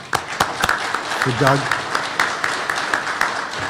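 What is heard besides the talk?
audience applause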